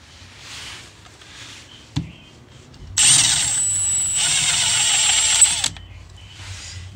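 An impact gun spinning out a rear brake caliper pin on a car, a loud sustained rattling whir lasting a few seconds after a sharp clank, close by, with quieter shop noise before and after and no talking.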